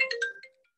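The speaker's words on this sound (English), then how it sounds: "that's your phone" A mobile phone ringtone plays during a yarn trunk show, a short burst of bright electronic tones that repeat quickly and then fade, ending with a brief faint chime, with no talk over it.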